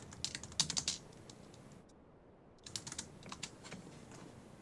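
Keys clatter in quick, light bursts on a computer keyboard as a Python comment is typed, with a short silent pause midway before the soft tapping resumes, close and faint with no voice.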